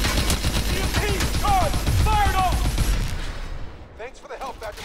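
Dense gunfire and explosions in the Call of Duty: Advanced Warfare campaign, with rapid automatic bursts and booms that are loud for about three seconds, then thin out to scattered shots and electronic chirps.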